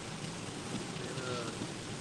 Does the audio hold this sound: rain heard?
yes